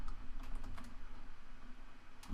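Computer keyboard typing, a quick run of soft close key clicks over about two seconds at a steady pace, alone without speech.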